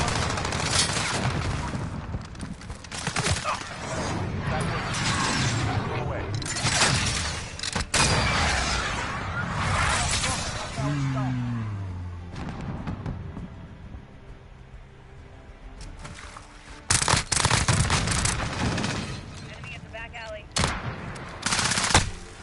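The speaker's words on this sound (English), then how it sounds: "Cruise missile." Cruise missile strike and gunfire in Call of Duty Modern Warfare: repeated loud rattling bursts and heavy impacts with sharp cracks, a brief lull, then renewed blasts, close and intense throughout.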